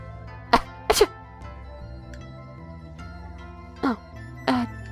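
A character sneezes in the Steins;Gate visual novel: two sharp sneezes close together, then two more after a pause, loud and up close over a quiet, steady game music bed.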